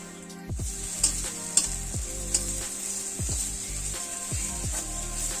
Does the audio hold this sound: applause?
no